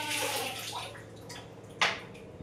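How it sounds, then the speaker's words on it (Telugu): Raw tap water runs from a faucet into a container at a home water purifier installation, a steady splashing rush that fades slightly, then a brief louder splash near the end. "tap water"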